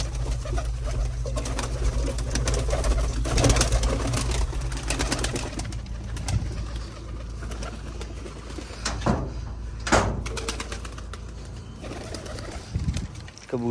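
Pigeons, including young birds, cooing in low repeated calls close by, with fluttering and shuffling movement amid a steady background hum.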